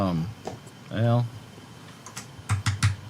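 A computer keyboard clicks in a short burst of quick taps near the end, after someone speaks briefly over a faint background hiss.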